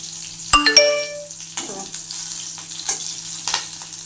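Bottle gourd peel frying in a pan, a soft ongoing sizzle with a sharp metallic clang and ringing ding near the start, then scattered light stirring clinks.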